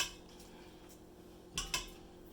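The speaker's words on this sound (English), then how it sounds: "So let's scrape down our bowl again." A spatula scraping cheesecake batter from the sides of a mixing bowl, heard as two brief clinking scrapes near the end of an otherwise quiet stretch.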